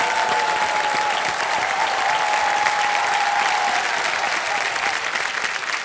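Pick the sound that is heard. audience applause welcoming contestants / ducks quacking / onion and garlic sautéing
audience applause welcoming contestants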